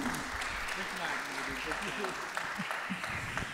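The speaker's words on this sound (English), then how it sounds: "A big clap." A concert audience claps steadily throughout, a dense, sustained round of applause with scattered voices mixed in underneath, as kanun and percussion musicians are introduced.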